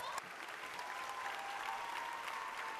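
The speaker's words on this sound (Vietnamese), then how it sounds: "Một tràng pháo tay" An audience applauds a performer's teeth-strength stunt on a Vietnamese TV variety show: dense, steady clapping fills the whole stretch at an even level, with no pause.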